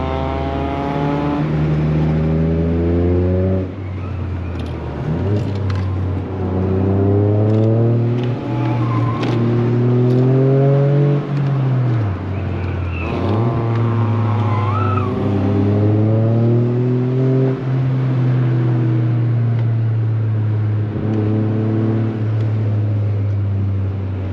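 A Toyota GR Corolla accelerates hard on a winding mountain road, its loud engine note climbing through the revs again and again, dropping between gear changes and then building once more, heard up close from inside the car.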